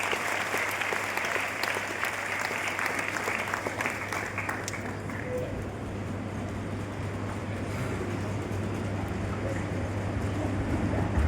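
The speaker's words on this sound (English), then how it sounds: "Please give her a huge round of applause." A large audience at a youth parliament gives a huge, loud round of applause for a speaker, a thick wash of clapping that holds strong for several seconds, then eases to a softer, steadier patter.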